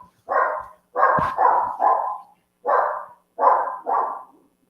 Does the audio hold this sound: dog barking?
yes